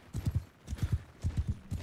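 Several horses' hooves clatter in quick galloping clusters in Mount and Blade Bannerlord, close and fairly loud, with short pauses between the bursts and no talk.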